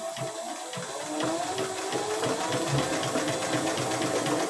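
A sewing machine runs steadily, stitching in circles as the fabric is turned at an even rate, a continuous mechanical whir with a fast repetitive needle rhythm, close and moderately loud with no talk.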